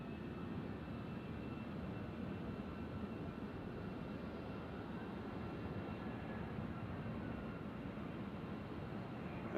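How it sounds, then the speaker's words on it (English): An American Airlines jet arriving from DFW at Nashville International Airport gives a steady broad engine roar at moderate distance, a continuous even rumble with no breaks. "catch this arrival here. This is American coming in from DFW."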